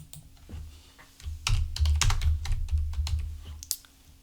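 Computer keyboard typing: a quick run of sharp key clicks in uneven bursts, close and fairly clear, entering a username in PC software, with a low steady hum underneath.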